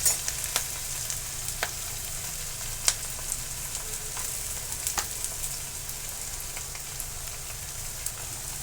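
Onion sizzling and frying in hot oil on a medium flame, a tempering for a traditional Maharashtrian vegetable dish; a steady close crackle with scattered sharp pops and spits throughout, no voices.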